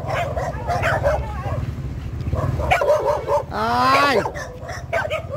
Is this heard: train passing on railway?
no